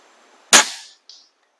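A custom HW50S air rifle fires one pellet with a sharp, loud close-up crack that decays quickly, followed by a faint metallic tick from the impact a moment later.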